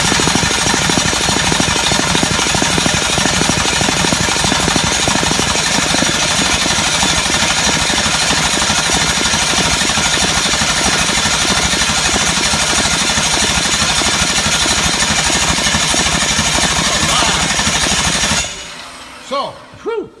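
A cammed LQ9 6.0L V8 engine being cranked over, a loud, harsh, rapid mechanical chatter that runs continuously for most of the clip and then cuts off abruptly, leaving a few faint knocks.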